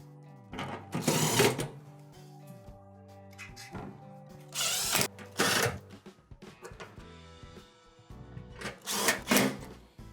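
A power drill whirs in short bursts, pausing between screws while repairing an oven's broil element, with faint clattering and handling noises in the gaps.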